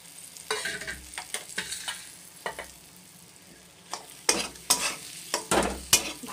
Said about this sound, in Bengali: ভালো করে মশলার সঙ্গে মাছটাকে আমি মিশিয়ে নিচ্ছি